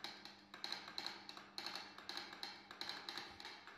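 Rapid clicks of a telegraph Morse key at a historic telegraph station, tapping in short irregular bursts with small pauses between groups, close and fairly faint against a low steady hum.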